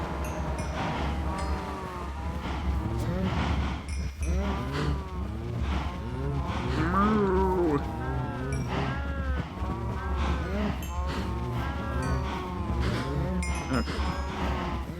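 Cows in the Minecraft Nomifactory modpack moo repeatedly in overlapping calls, a dense herd lowing steadily and loudly over a constant low hum, with no one talking.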